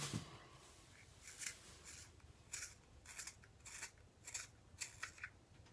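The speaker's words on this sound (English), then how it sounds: "now I'm going to sharpen it again to clean the lip part off" A cosmetic lip pencil is turned in a small sharpener, giving a series of quiet, scraping, rasping strokes in an irregular rhythm, faint and close with no talking.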